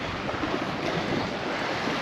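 Calm sea meets the beach at Santa Ponsa, Mallorca, with small waves washing in. A continuous soft, breezy wash of surf carries on steadily with no voices.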